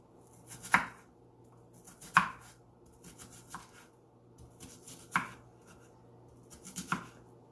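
A knife chops red onion for a pasta salad on a board, about six or seven sharp, fairly quiet cuts at an irregular pace with soft pauses between them and no talk.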